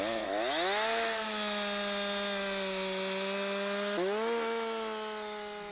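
A Husqvarna chainsaw cutting wood with the lower edge of the bar, engine loud and close, revving up and holding a steady high whine through the cut, with a brief dip and re-rev near the end.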